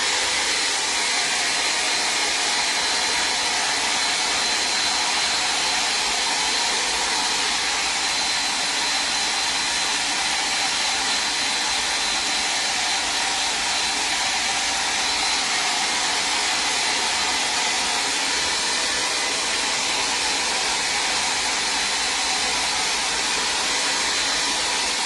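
A handheld dryer blows steadily on freshly decoupaged plastic Easter eggs, a loud, even rushing whoosh that holds without a break for the whole stretch.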